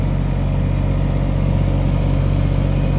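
A tractor, bought brand new, idles on a cold November start with a steady, even rumble that holds unchanged throughout, close and fairly loud, with no talking.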